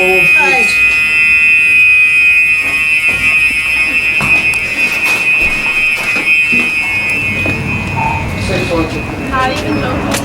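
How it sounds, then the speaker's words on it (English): Fire alarms blare throughout an apartment, a loud steady high-pitched electronic tone sounding without pause while people talk underneath. "all the fire alarms started going off throughout the apartment"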